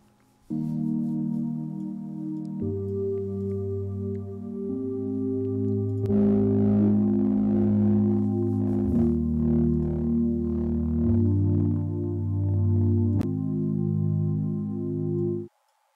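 Sustained synth-like chords with a washed, spacious tail change step by step over about fifteen seconds, heard through a reverb plugin in IK Multimedia MixBox, with no voices.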